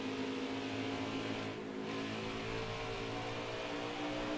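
Race car engine in NASCAR Heat 5, a 1998 mod car on the Iowa oval, droning steadily and loudly throughout with a constant high whine, easing briefly then holding, no speech over it.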